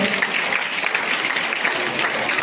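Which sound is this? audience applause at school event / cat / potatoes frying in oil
audience applause at school event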